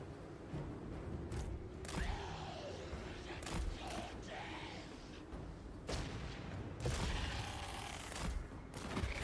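Gunfire in the game Hunt: Showdown 1896, a series of sharp shots and heavier booms at irregular intervals, some close and some distant, with faint in-game ambience between them.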